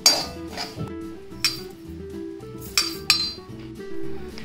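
Roasted whole spices for a Maharashtrian white mutton curry go into a mixer-grinder jar with several close, bright clinks and taps of metal and glass, with a low hum underneath.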